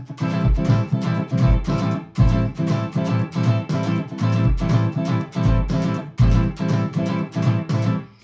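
Steady rhythmic guitar strumming with paired quick strokes and low thumping accents, repeating in a tight, even groove with no talking.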